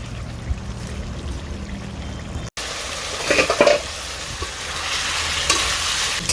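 Pumpkin and potato gravy being stirred and reduced in a pan, a steady simmering sizzle with scraping, a brief cut, then louder bubbling and spoon movement.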